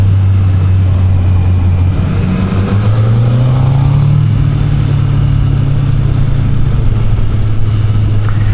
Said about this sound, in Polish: taka nagrywka po prostu motocykla CB1000R w akcji z dobrym kierowcą za sterem